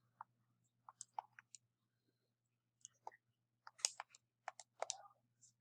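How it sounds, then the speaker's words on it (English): Calculator keys pressed in a scattered series of sharp, close clicks, single taps and quick clusters separated by short pauses, over a faint low hum. "we can type that into our calculator to get our exact answer"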